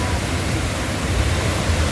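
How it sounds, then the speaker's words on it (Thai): A waterfall at Haew Suwat in Khao Yai National Park pours in a steady, dense broadband rush that fills the whole clip at close range, with no other sounds standing out. "ก็มาเจอน้ำตก"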